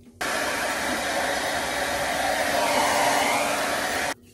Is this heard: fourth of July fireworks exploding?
no